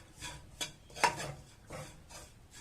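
Roasted coriander seeds are stirred in a hot pan with the stove switched off, giving a few close scraping and rustling strokes with light clinks, quiet and alone.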